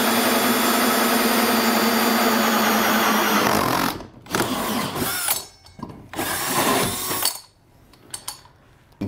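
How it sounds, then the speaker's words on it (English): A hole saw on a power drill cuts a hole for a swivel D-ring anchor, whining steadily and loudly for about four seconds, then continuing in a few shorter bursts separated by pauses. "So I'm going to go ahead and we'll start drilling out our hole."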